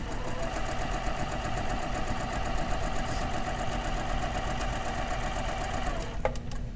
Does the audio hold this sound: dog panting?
no